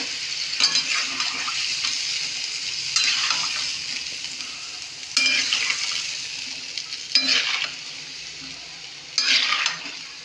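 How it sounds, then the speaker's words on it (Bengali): Spices being sautéed in a pan for koi fish curry, with a continuous sizzle broken by several louder bursts of stirring and scraping every couple of seconds, close and without speech. "এবার মশলাটা ভালো করে কষানো হোক, তারপরে এর মধ্যে জল দেব।"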